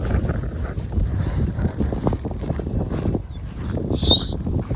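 Steady wind buffeting and rumbling across the microphone in a garden, fairly loud and continuous, with a brief higher bird-like chirp near the end.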